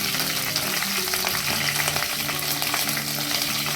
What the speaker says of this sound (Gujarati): ત્યાર પછી આપણે મરચાંના કટકા એડ કરવાના છે